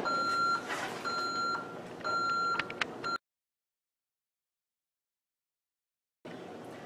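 A home alarm keypad gives a few evenly spaced high beeps while arming in away mode, then falls silent for about three seconds before faint room noise returns.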